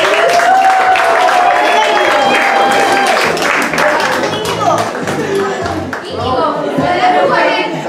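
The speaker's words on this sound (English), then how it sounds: "A round of applause," Applause for the ladies at a Grade 7 fashion show, a dense round of clapping filling the room for about eight seconds, with crowd chatter and voices mixed through it.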